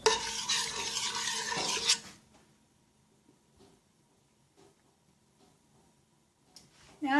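Vegetable pot pie filling being stirred in a pot, a loud burst of spoon scraping and sizzle for about two seconds, then near silence with faint clinks before another short stir at the end.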